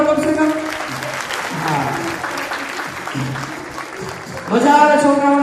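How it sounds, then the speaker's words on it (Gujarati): An audience claps for children being honoured on stage at the first Snehmilan gathering of the Vasavad Gurjar Kadiya community. The brisk, sustained crowd applause sits between stretches of an amplified voice speaking. "તાળીઓ તો પાડો પડશે ને"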